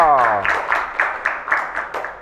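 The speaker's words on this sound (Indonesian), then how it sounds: "tepuk tangan buat Bondowoso" Group at a Ramadan religious study session clapping in rhythmic, unison beats, about eight even claps following a voice at the start.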